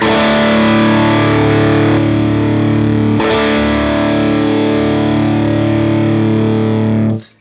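Electric guitar through a Line 6 Helix amp model with the bias pushed to an extreme setting, giving a loud, sustained distorted chord with a slightly fizzy top, ringing steadily alone until it is cut off at the end.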